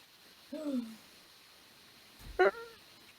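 A voice imitates a dying wolf whimpering during a Curse of Strahd tabletop session: two faint, brief whines, one drawn-out and falling, the other a shorter, higher cry, separated by quiet.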